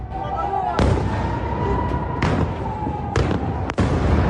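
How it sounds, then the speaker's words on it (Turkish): Ballistic missiles explode, several sharp, loud blasts bursting out one after another over a constant rumbling roar, with a heavy low-end boom beneath each hit. "Balistik füzeler ard arda patladı."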